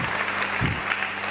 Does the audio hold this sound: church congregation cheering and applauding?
yes